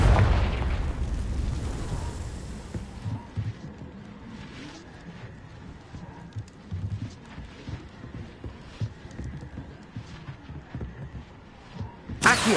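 Confringo fire blast spell cast in a Harry Potter video game during a dragon attack, a loud burst at the start fading into scattered crackling pops and thuds, with another sharp blast at the end.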